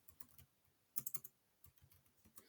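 Keys on a computer keyboard tapped to enter data into a Google Sheets spreadsheet: quiet, close clicks in irregular bursts, with a brief flurry of sharper keystrokes partway through and no voices.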